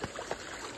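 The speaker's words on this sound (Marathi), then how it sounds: "आमची नदी बघा" A river flows steadily nearby, a soft continuous rush of moving water with faint trickling, heard alone and briefly at low level.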